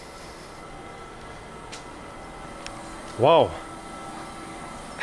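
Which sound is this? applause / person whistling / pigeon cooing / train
train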